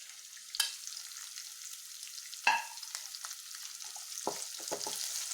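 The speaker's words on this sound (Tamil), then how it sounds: "இப்போ வெங்காயத்தை ஆட் பண்ணிக்கலாம்." Onions sizzle and fry steadily in a pan of hot oil for an Indian aloo mutter masala, with a few sharp clatters of a spoon against the pan over a continuous crackling hiss.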